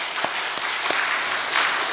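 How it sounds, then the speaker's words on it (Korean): A congregation at a Methodist church service applauds, a steady, bright wash of many hands clapping with a few sharper claps standing out, fairly loud and sustained throughout. "박수 한번 쳐드리겠습니다."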